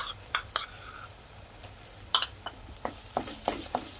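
Coconut masala paste frying in oil is stirred in a pan, with sporadic scrapes and clinks over a soft continuous sizzle. Close and moderate in level, with no speech.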